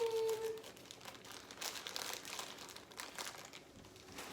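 Close crinkling and rustling of a crinkly plastic snack bag being opened, irregular bursts of crackle over several seconds, with a short tone at the start.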